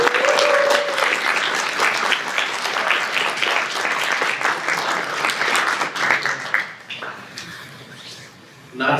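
Audience applause at a conference keynote fills the room with loud, dense clapping that gradually thins and fades toward the end, with a brief tonal ping at the start.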